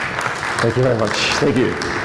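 Audience applause at a VMworld 2017 conference session on NSX network virtualization: steady, fairly loud clapping from the crowd running under a voice thanking them.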